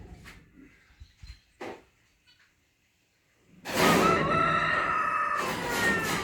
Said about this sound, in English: I know what that is. That's a rooster.